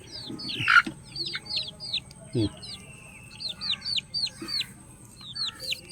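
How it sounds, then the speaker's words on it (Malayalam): A backyard country chicken clucks repeatedly, mixed with rhythmic chirping calls from other birds and a few low knocks, fairly close and clear. "ഇത് നമ്മുടെ കോഴി"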